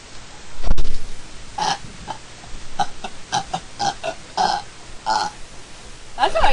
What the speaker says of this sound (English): That's how I used to burp.